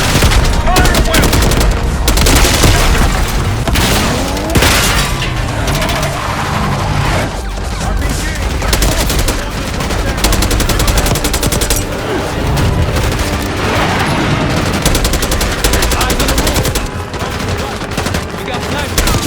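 Heavy, sustained gunfire from a Call of Duty Black Ops 6 battle, loud dense bursts of automatic fire and shots running nearly unbroken throughout, with booms and a voice faintly under the din.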